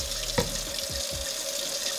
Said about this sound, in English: Get some nice warm water. Get it nice and wet.